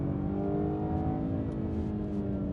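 A 2022 Jaguar XE P300 AWD engine drones steadily under load in sport mode, with a smooth, sustained hum heard from inside the car and a slight shift in tone during a downshift. No one speaks.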